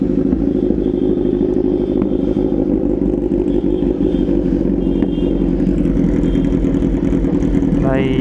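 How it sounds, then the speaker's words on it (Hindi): A Kawasaki Z900 motorcycle with its dB killer removed runs loud and close, a deep, rough engine rumble that stays steady throughout with no clear revving. "बाइक बाहर निकालते हैं, बिकॉज बाइक करेगी आवाज़ बहुत ज़्यादा"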